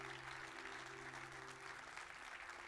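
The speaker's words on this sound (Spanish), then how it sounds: "Denle un fuerte aplauso a Dios por eso" Steady, dense clapping from a large church congregation, sustained and even throughout with no voices standing out.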